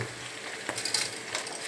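Sliced onions with turmeric powder fry in a pan, a brief, soft sizzle and crackle with a few louder spattering bursts, alone without talk.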